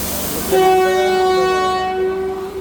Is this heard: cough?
no